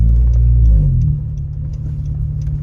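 Tuned Honda Civic Si engine driving, a loud low rumble that swells briefly at the start then settles into a steady, slightly throbbing drone, heard close and alone with no talk.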